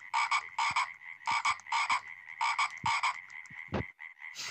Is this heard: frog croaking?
yes